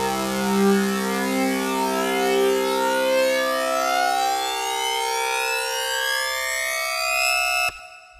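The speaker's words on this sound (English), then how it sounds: "we've got plenty of movement in this riser sound, which is pretty nice" Dubstep synth riser with pitch modulation, a bright harmonic tone that sweeps steadily upward in pitch for about eight seconds with wobbling movement, loud and alone, cutting off sharply near the end.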